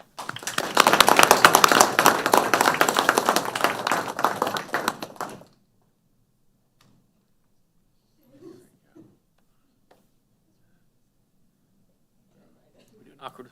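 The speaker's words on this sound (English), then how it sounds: "Please join me in applauding Crystal as she accepts this honorable designation." An audience at a city council meeting breaks into a burst of applause lasting about five seconds, dense and fairly close, then stops abruptly, leaving near silence with a few faint knocks and murmurs.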